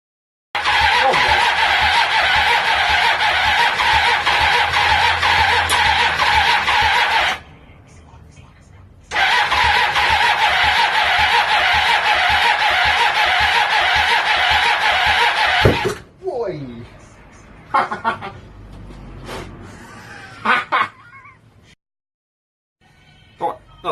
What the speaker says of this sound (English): join us now for the first start, hopefully, of the Kawasaki ER250